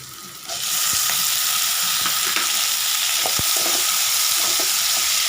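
Tomatoes dropped into a hot frying pan for a banana flower kootu set off a loud, steady sizzle that starts abruptly and holds, with a few faint clinks.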